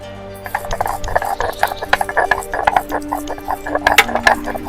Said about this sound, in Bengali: ডিম সুন্দরী বানানোর জন্য আমি কাজুটা বেটে নিব।